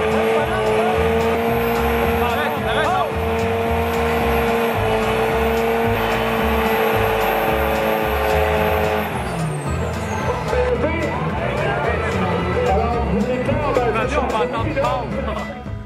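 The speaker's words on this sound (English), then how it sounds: "The oversized cargo truck, with its powerful engine and impressive horsepower, moves into the town center, escorted by the police." A steady, loud heavy engine drone from an oversized cargo truck moving into a town centre under police escort, continuous throughout with a constant low rumble and a slight shift in tone partway through.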